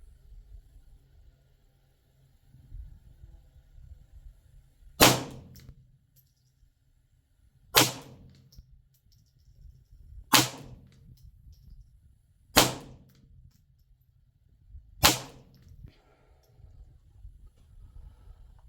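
Five sharp suppressed shots from a Ruger 10/22 Charger rifle at an outdoor range, evenly spaced about two to three seconds apart, each a crisp crack with a short decay over low background rumble.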